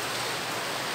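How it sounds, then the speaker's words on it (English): Rain falls steadily as a dense, even hiss of drops with no voices over it, loud and continuous through the short stretch. "it's raining"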